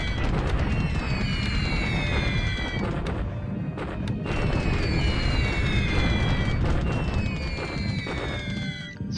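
Bombs falling on Rangoon in a January 1942 air raid, heard as continuous loud rumbling blasts with repeated descending whistling tones cycling through, dense and close throughout.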